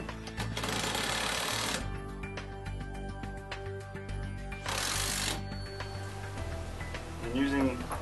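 A power driver whirs in two short bursts while tightening bolts on a golf cart cargo box for a Club Car Precedent, with softer clicks and clatter between them.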